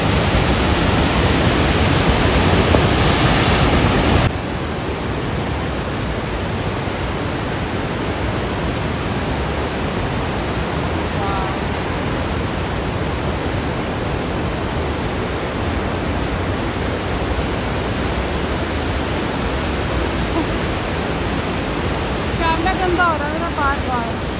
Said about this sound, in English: I can only see the very big waterfall and very feisty